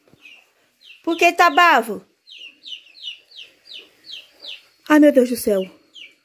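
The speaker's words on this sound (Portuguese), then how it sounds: "eu tô escutando ali meus pintinhos piando" Young chicks on a small farm peep in a steady series of short, high chirps, close by, between bursts of someone talking loudly.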